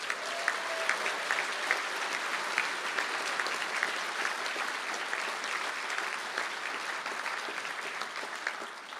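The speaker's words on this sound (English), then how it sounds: "I think that deserves a round of applause." Sustained applause from a graduation ceremony audience in Galway fills the hall, an even wash of many hands clapping at moderate volume, steady throughout with no voices breaking through.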